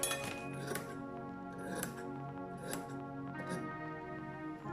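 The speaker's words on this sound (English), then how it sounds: "And cut it." Scissors snip through a shirt being cut into a tank top, a few distinct cuts with faint metallic clinks spaced about a second apart, close up over a steady background hum.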